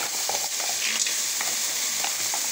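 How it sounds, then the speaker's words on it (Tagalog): Mussels sauté in a hot pan with a steady close sizzle, punctuated by scraping stirs and light clinks of shells, with no one speaking. "ang lalagay ko muna ay yung aking tahong. Tapos, gigisa ko lang siya ng konti dyan."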